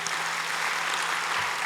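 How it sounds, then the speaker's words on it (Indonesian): Church congregation applauding steadily, a broad even wash of clapping that holds throughout with no talk over it. "Berikan tepuk tangan yang meriah."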